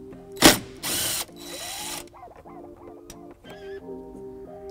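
A ratchet loosens an 8mm bolt behind a tie-down point on a 2019 Honda Pilot, with a few sharp, close bursts of ratcheting clicks followed by quieter metallic fiddling and faint tones.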